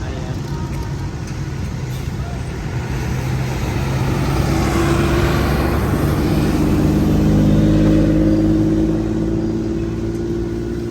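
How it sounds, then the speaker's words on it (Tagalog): Garbage truck engine idling and rumbling at a street cleanup after a rally, a low continuous drone that swells slightly in the middle, with people talking faintly in the background. "Meron na pong truck dito ng basura mga kababayan."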